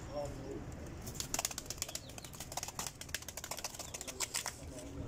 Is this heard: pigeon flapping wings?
yes